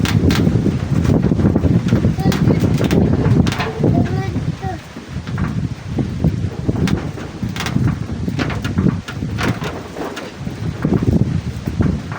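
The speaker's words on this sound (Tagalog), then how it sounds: "Grabe, sobrang lakas ng hangin dito mga tol" Strong, storm-like wind buffets the microphone with loud, gusty rumbling that rises and falls, while a person speaks over it in Tagalog.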